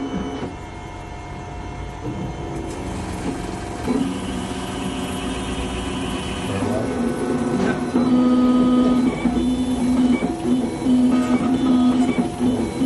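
A dental machine that rebuilds drilled-away tooth enamel runs in a dentist's office, giving a steady mechanical whir and hum that grows louder about halfway through, with no voices.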